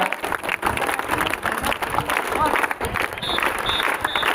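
A crowd of children at a high school zonal sports meet claps loudly and continuously, a dense patter of applause with voices mixed in.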